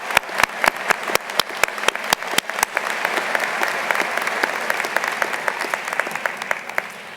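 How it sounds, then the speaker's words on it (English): Audience applause fills a 2019 high school commencement at Prairie School, a broad steady wash of many hands with sharp individual claps popping out near the front, sustained throughout. "So just a quick round of applause."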